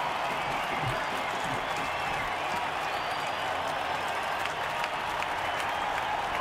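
A football game crowd applauds and cheers in a continuous wash of clapping, steady and fairly far off, with a few louder claps standing out.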